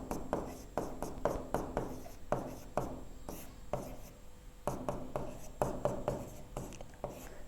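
A teacher writes chemistry notes on a board, producing quick bursts of scratchy, rhythmic strokes with brief pauses between words, close and fairly quiet.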